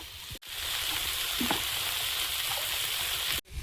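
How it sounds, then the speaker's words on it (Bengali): Winter vegetables for khichuri sizzle steadily in a hot pan, a continuous close frying hiss with a brief dip near the start and end, no voices. "সবজিটা এদিকে কষাই হচ্ছে"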